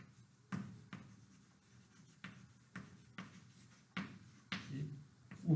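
Chalk or marker strokes on a classroom board during a Portuguese linear algebra lecture, a series of short tapping and scraping bursts at irregular intervals, fairly faint and close, with no talk over them.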